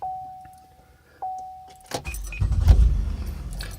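A car engine cranks and catches after purge valve replacement, preceded by a faint jingle of keys and a steady electronic chime; the starter and idle come in loud and close partway through, with no talk.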